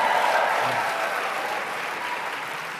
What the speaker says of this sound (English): give yourselves a tremendous round of applause